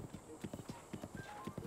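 Horse hooves clip-clopping at a run along a road in The Legend of Zelda: Breath of the Wild, a quick steady rhythmic beat, faint and up close.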